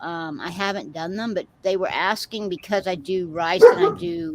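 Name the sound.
dogs barking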